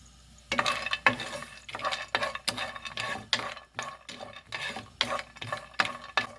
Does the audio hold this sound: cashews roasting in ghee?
yes